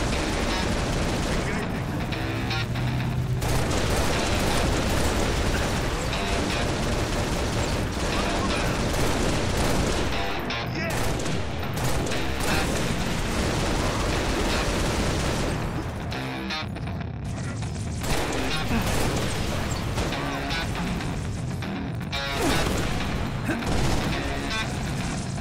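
Gunfire and explosions in the video game Halo Reach, sustained rapid weapon fire with bursts and booms throughout, dense and continuous at moderate level.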